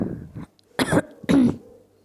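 Two sharp, loud coughs from a person with a cold and sore throat, about half a second apart, each a short harsh burst, with quieter throat sounds before and near silence between them, at night.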